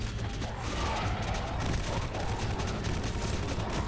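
Rapid gunfire in the video game Action Alien: Tropical Mayhem, a dense, continuous rattle of shots with mechanical clatter over steady game noise.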